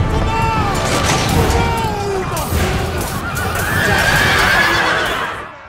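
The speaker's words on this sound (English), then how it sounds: "Our light cavalry are waiting for orders, and they're the perfect counter against archers" Light cavalry horses charge across a battlefield in Total War: Rome II, with loud whinnies and neighs over a rumble of hoofbeats and distant battle noise.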